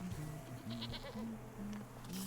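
Goats in the video game Wytchwood bleat in a quick run of short, nasal cries, several calls overlapping close together over a low game soundtrack.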